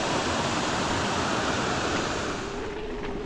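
A river rushes steadily beside a mountain bike trail at Coed y Brenin, a dense, continuous broadband wash of flowing water heard up close and loud throughout, with no voices.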